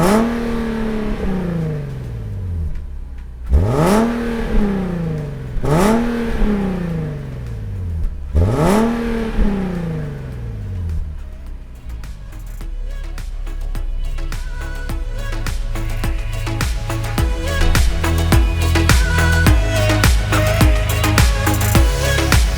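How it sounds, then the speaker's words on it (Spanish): A 2020 Nissan 370Z's engine blips three times in sharp rising-and-falling revs, then settles into a sustained loud, climbing roar, close up with no talking. "vamos a escuchar cómo ruge este motor"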